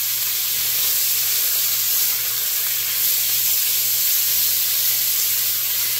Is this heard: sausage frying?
yes